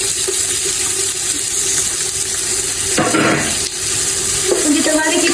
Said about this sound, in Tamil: இந்த வெங்காயம் வந்து போட்டோம்னா சிதற ஆகணும்